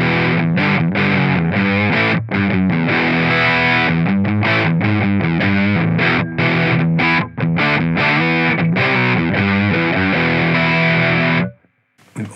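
Heavily distorted electric guitar played through a dual rectifier amp model in Amplitube on an iPhone, loud and continuous chugging riffs with a brief pause near the end.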